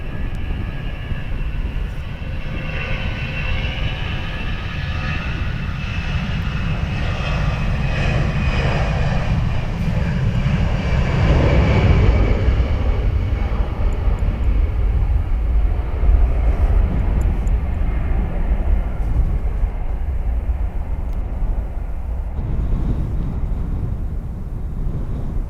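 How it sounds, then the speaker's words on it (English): A Chinese government Boeing 737 departs Dublin Airport, its jet engines roaring steadily and loud for the whole stretch, swelling in the middle as the aircraft passes close, then easing as it climbs away. "so we have the Chinese government departure, 737"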